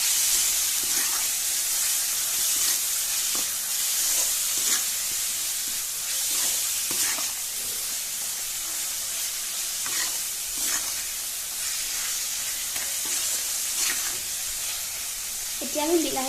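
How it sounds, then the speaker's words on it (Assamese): Spices sizzle and hiss steadily in a hot pan while being cooked for Assamese pork masala with bamboo shoot, with the scrape of stirring now and then. Light talk sits faintly under the frying. "মছলাখিনি দিয়াৰ পাছত আমি ভালদৰে ভাজি ল'ম।"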